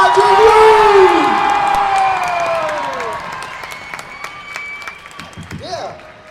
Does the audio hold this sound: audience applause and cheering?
yes